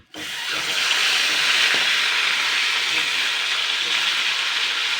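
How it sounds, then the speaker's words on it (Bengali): Tilapia fish head frying hard in hot oil, a loud, steady, broadband sizzle that starts abruptly and holds evenly throughout, close and alone with no voice. "মাছের মাথাটা কিন্তু আমি খুব কড়া করে ভেজে নিয়েছি"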